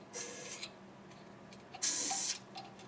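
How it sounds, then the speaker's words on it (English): Short squirts of rust-prevention spray aimed into holes, two hissing bursts about half a second each with faint clicks between, close and fairly quiet. "I'm actually gonna give a squirt into the holes here"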